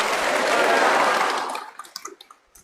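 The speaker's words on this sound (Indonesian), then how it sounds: "Mari kita tepuk tangan." Congregation clapping hands in a cathedral during an Easter Vigil homily, a loud dense burst of applause that dies away quickly into a few scattered claps and faint room sounds.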